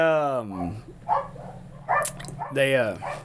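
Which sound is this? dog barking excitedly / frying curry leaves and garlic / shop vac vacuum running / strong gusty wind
dog barking excitedly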